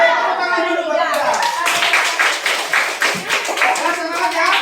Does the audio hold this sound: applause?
yes